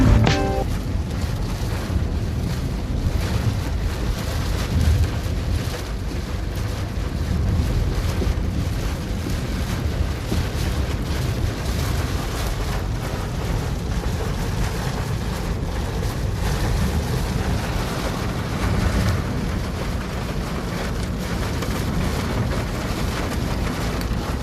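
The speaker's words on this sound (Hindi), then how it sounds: "बारिश की काफ़ी आवाज़ थी" Steady broadband rush of heavy rain on a moving car on the Lahore–Islamabad M2 motorway, mixed with road and wind roar, continuous and loud throughout with no talk.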